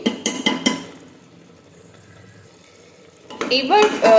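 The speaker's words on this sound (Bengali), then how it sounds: "এবার একটু নাড়াচাড়া করবো" A spoon stirs rice with ginger-garlic paste and yogurt in a pot, clinking and scraping in short bursts at the start and again at the end, with a quiet stretch between.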